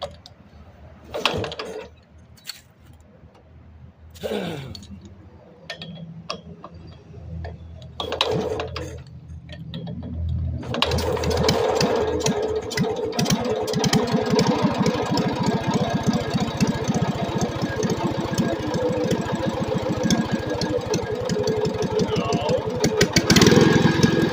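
A Wisconsin TF engine is hand-crank started: a few scattered knocks and cranking sounds, then the engine catches and settles into a loud, steady, close rapid chugging for the rest of the clip.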